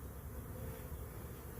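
A large swarm of honey bees hums in a bee yard, a dense, continuous low buzzing heard close and steady with no voices.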